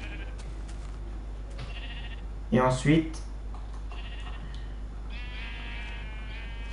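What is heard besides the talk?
Minecraft sheep bleating after spawning, from a video game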